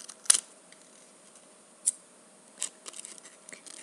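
Scissors snipping paper while cutting an origami scorpion, a few short crisp snips spaced apart, close and fairly quiet with no talk.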